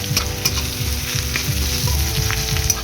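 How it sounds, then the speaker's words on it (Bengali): Chopped garlic and onion frying in oil in a pan while being stirred, with a steady sizzle and clinks and scrapes of the utensil throughout, close and fairly loud, no talking, for a fish curry (lote macher jhal). "আমি এবার এটাও নাড়িয়ে নেব"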